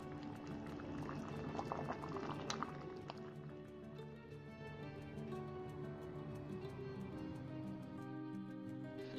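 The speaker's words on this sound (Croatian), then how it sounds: "Nakon što agda provrije, dodamo limun izrezan na kolutiće i sve kuhamo 7 minuta." Sugar syrup with sliced lemon rounds bubbles in a pot, a steady continuous boil with dense small pops, fairly quiet and close, no talking.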